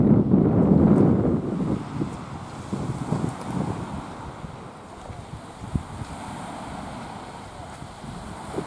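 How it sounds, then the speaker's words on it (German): A southerly wind at sunset by the sea roars against the microphone, loudest in the first second and then settling into softer, gusty rumbling buffets with brief thumps. "Deutlicher Wind von Süden, aber nicht besonders kalt oder warm"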